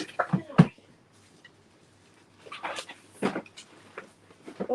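Drawer being opened and shut during a scrapbooking class, a few close wooden knocks and slides near the start and more clatter later, with brief voices in between.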